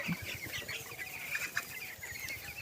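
Fifteen-day-old broiler chickens on straw bedding clucking softly in a busy flock, with a constant murmur of scattered calls and rustling, moderately near.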